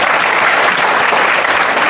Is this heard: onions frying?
no